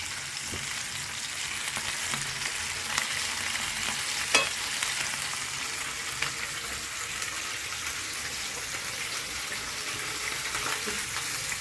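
Fish frying in a pan for a fish curry and fry, a steady, close hiss of sizzling oil with occasional small pops and crackles, no voices over it.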